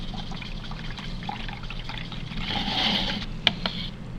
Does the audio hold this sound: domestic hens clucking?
no